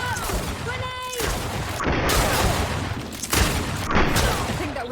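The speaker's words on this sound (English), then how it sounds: "Watch out! Grenade!" Grenade blast and gunfire in the fantasy game GreedFall, heard as a dense din of repeated booms and shots with a sharp crack near the two-second mark and another near four seconds, mixed with voices and game effects.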